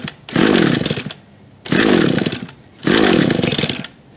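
Gas string trimmer engine, a Toro TC-1000 or Stihl FS-36 weed whacker, being pulled to start: three loud, rough bursts of sputtering two-stroke engine noise, each lasting about a second, separated by short pauses, close up.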